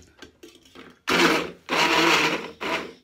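A blender whirs in loud bursts while mixing a keto bulletproof smoothie with coconut oil, two longer runs and a short final pulse after some quiet clicks and handling noises.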